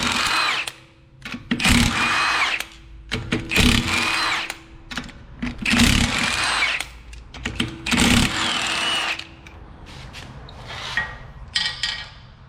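A power tool works loose the 19 mm wheel nuts on a Honda CR-V in a series of short, sharp bursts with brief gaps, close by and alone.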